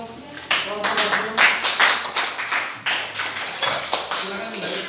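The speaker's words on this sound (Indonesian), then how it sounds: "Beri tepuk tangan untuk kelompok audio." A small group in a teachers' coaching session claps by hand, the loose individual claps distinct and close, pulsing unevenly for several seconds before trailing off.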